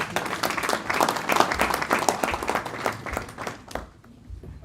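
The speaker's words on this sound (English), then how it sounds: "And if you want, you can clap your hands." An audience at a European Cyber Week conference session applauds after a speech, a dense spread of clapping that carries steadily and then thins out near the end.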